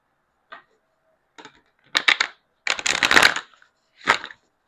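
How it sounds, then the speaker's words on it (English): A fairly new, stiff deck of tarot cards is shuffled by hand in several short riffling bursts separated by pauses, crisp and close, with no speech. "These cards are a little tougher to shuffle because I haven't used them a lot"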